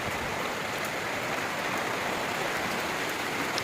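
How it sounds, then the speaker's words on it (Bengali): Steady, dense rain falls close by, a constant even hiss of drops hitting surfaces with no pauses. "দেখছেন বৃষ্টি চলে আসছে"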